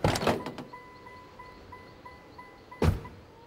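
In the video game Outlast, a character gets out of a car: a sharp door clunk, a faint rhythmic electronic chime, then another heavy door thunk near the end, with no talking.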